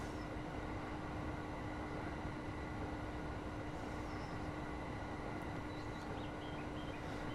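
A train rumbles steadily in the Train Simulator Classic video game, a constant dense drone with a sustained tone and no break.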